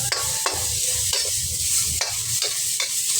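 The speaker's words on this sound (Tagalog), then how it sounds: "isahin na natin ulit ng stir fry din yung ating sibuyas at bawang" Onion and garlic stir-fry in a hot pan, a continuous loud sizzle with repeated scraping strokes of a utensil every half second or so.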